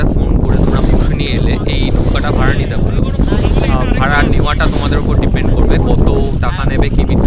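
A boat travelling on the sea brings a loud, constant roar of wind buffeting the microphone and rushing water, while voices talk under the noise.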